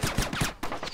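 Gun in Splinter Cell Chaos Theory firing a quick string of about four or five close, punchy shots in roughly one second, each sharp crack decaying fast.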